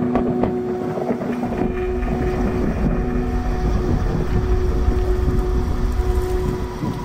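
Steady roar of wind with heavy rain underneath, a continuous loud wash of noise filling the background of a narrated horror story, with no pauses or separate drops.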